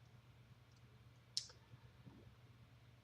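A single sharp mouse click sounds on a download button during Google Drive File Stream setup on a Windows computer, one crisp tick over a faint steady hum in a quiet room.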